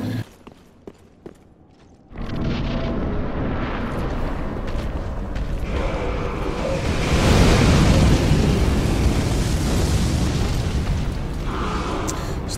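Old Demon King boss in Dark Souls III unleashing a fire ring attack: a sudden loud eruption of roaring flame after quiet hits, sustained and swelling into a dense rumbling blaze that fills the rest of the scene.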